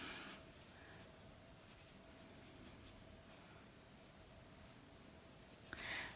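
A pen scratches across paper in a Hobonichi Weeks or Traveler's Notebook, soft close strokes of writing continuing steadily in a quiet room.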